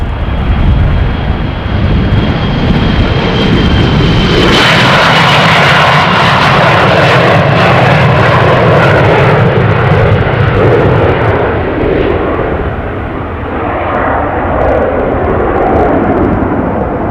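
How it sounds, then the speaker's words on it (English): A passenger airplane makes a steep takeoff from runway 36L at Amsterdam Schiphol, its loud, sustained jet roar swelling sharply a few seconds in and then rumbling steadily as it climbs away. "Steep takeoff."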